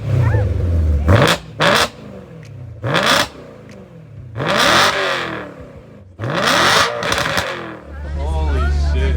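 A BMW E90 M3 with a full titanium Valvemaster quad-resonated exhaust barks through a series of sharp, loud revs, rising and falling in repeated bursts between idle, with people talking nearby.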